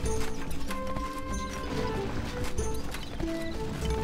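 Horses gallop in the strategy video game Stronghold Legends, a busy clatter of hoofbeats under layered game music and battle sounds, steady throughout.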